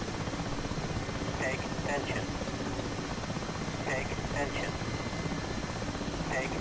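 An Mi-8 helicopter hovering in the DCS flight simulator during sling loading, a steady rotor and engine drone throughout with a few faint radio voice bursts underneath.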